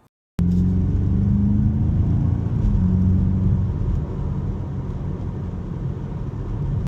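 A 2025 BMW M5 Touring, a 717 hp V8 plug-in hybrid family wagon, drives with a steady low engine and road rumble heard from inside, loud and continuous with a slight rise early on, no talking.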